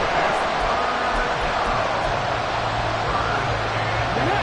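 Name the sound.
stadium crowd noise in Madden video game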